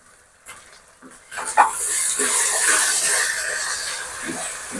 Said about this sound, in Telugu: ఇవన్నీ కూడా కరెక్ట్గా మిక్స్ అయ్యేటట్టు మొత్తం కలపాలి.